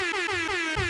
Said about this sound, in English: I meant to hit the air horn.